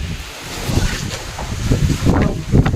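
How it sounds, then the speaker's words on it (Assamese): Strong, sudden wind rushes in ahead of rain, buffeting the microphone in loud, uneven gusts that swell and fade, with no voices. "হঠাৎ আহি গৈছে বতাহটো পুৰা বতাহবিলাক চব নীল কাৰ্টুন চাৰ্টুন উৰে ৰৈছে"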